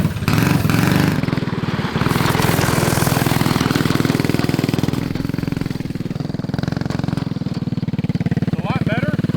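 A yard kart's small engine, fitted with performance mods, runs loud and close with a steady, buzzing chatter, holding a constant throb throughout.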